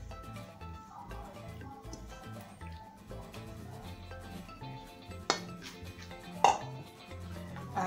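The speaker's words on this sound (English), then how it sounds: "now I'm going to go ahead at this point and add our shrimp." Shrimp added to a pan while making Cajun shrimp Alfredo: soft clinks and clatter of utensils and cookware, with two brief sharper knocks near the end over a low steady kitchen background.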